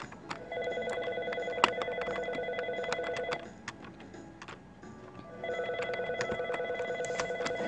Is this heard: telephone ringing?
yes